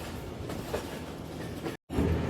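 The Sialkot Express running on rails through open countryside, a steady rumbling roll with clickety-clack wheel beats, close and continuous apart from a momentary dropout.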